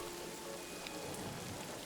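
Rain falls steadily in the trench-warfare game All Quiet in the Trenches, a soft, continuous patter with no voices and no change in intensity.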